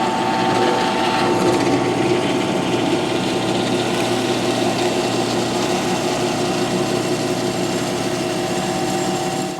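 A drill press bores dowel holes into wood, giving a steady, loud, continuous motor whine with grinding bit noise that holds unbroken throughout.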